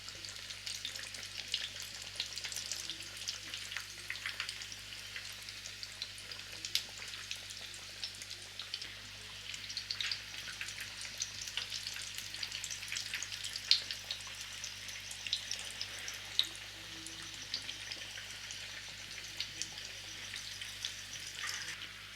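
Bombay duck fish chops deep-frying submerged in plenty of oil, a soft continuous crackling hiss that holds steady and fairly quiet throughout, with no one talking.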